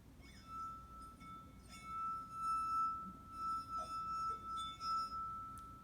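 Musical drinking glasses struck one after another, each giving a clear high ringing tone that hangs and decays, with a sustained pitch running through and a few light clinks in a quiet room.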